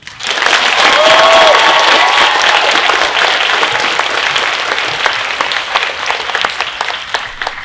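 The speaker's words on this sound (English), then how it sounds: "can we give a huge round of applause to our gyms, to the JCPS Grace James Academy staff" Loud, dense audience applause at a school lab coat ceremony, a large crowd clapping steadily that fades slightly toward the end, with a brief tonal sound near the start and faint voices underneath.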